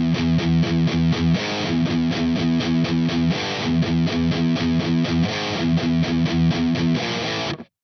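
Distorted electric guitar chugs through the verse riff of a song: tight, loud palm-muted rhythmic pattern repeating for several bars, steady and continuous until an abrupt stop, with no talking.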